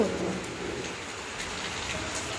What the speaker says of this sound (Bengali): দেখো বন্ধুরা কি বৃষ্টি পড়ছে